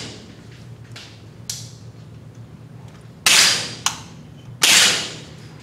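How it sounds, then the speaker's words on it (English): Rifle shots ring out at an outdoor rifle range, two loud sharp reports and several fainter distant cracks, each with a short decaying tail over low background noise. "Squeeze the trigger one time, gentlemen."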